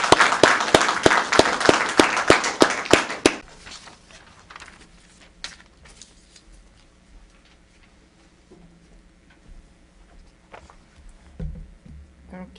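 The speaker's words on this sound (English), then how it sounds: "I want to have everyone join me in a round of applause for our guests." An audience at a policy panel discussion gives a brief round of applause for the guests, rhythmic clapping that lasts a few seconds and then stops, followed by quiet room noise and faint shuffling.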